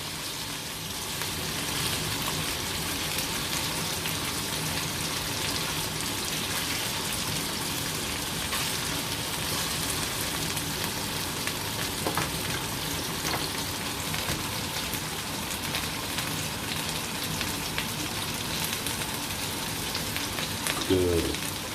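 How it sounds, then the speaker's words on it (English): Food sizzles and fries steadily in a pan in a home kitchen, a continuous crackling hiss with a few louder pops near the end. "we're just frying a little."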